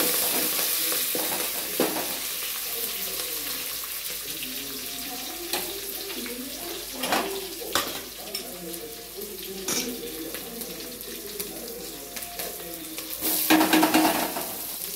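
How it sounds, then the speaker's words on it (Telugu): Cumin seeds and green chillies fry in hot oil in a pan, a close, bright sizzle with bursts of spitting and stirring, loudest at the start and swelling again near the end. "జీలకర్ర, పచ్చిమిర్చి వేసి"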